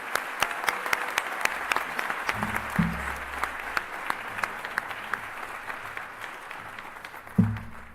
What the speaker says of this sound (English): How about a nice round of applause for Alicia,